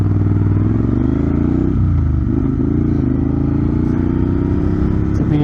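A Moto Guzzi Griso motorcycle with a modified exhaust is being ridden, and its engine drones loud and close with a deep, throbbing rumble that dips briefly as the throttle shifts.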